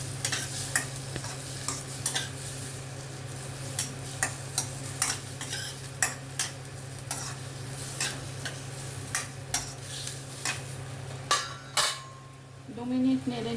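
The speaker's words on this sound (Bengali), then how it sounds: "পেঁয়াজ রসুন একটু নেড়ে নিচ্ছি।" Onion and garlic are stirred in a frying pan for tomato soup, a steady sizzle under repeated scraping and clinking strokes of a utensil against the pan, close and continuous.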